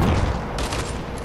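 Gunfire in the video game Fortnite, a loud dense burst of shotgun-style blasts ringing out over a short moment.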